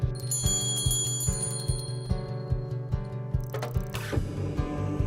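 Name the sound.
teacher ringing a bell to start meditation quiet time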